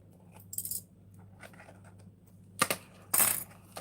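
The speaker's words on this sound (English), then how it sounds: "I'm going to take some of the paper clips here." Small metal paper clips handled and dropped, giving a few brief bright clinks and rattles in separate bursts, close by against a quiet background.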